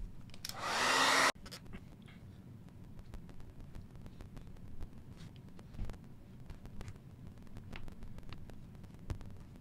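A heat tool warms the back of eyeshadow palette pans to loosen them for depotting. It blows loudly for about a second and then cuts off, leaving a faint hum and scattered light clicks.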